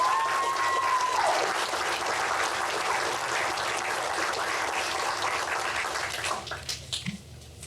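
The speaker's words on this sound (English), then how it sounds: "How about another round of applause?" Applause fills a June 2025 BLET police academy graduation ceremony: a large crowd claps steadily and densely for about six seconds before it thins into scattered claps and fades.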